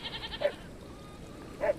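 Goats and sheep in a farm corral give two short, faint bleats about a second apart over a quiet outdoor background.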